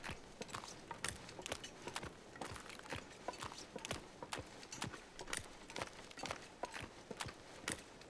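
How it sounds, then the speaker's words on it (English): Footsteps crunch across ice in the survival video game The Long Dark, a steady, quiet run of crisp crackling steps with no talk. "Loving the crinkling and the crunching of the ice beneath the weighted feet in my footsteps."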